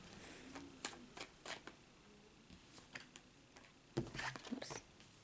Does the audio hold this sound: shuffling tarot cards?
yes